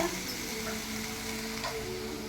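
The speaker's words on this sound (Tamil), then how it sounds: "நல்லா வதக்கிக்கோங்க" Ground onion masala for a coconut-milk veg kurma sizzles and fries steadily in a pan, a soft continuous crackle with faint stirring scrapes, close and quiet with no talk.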